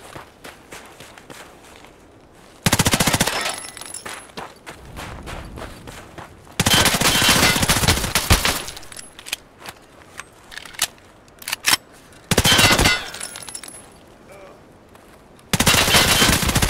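Bursts of automatic gunfire from a shooter video game, several long sustained volleys separated by quieter stretches with scattered single shots and footsteps, loud and close.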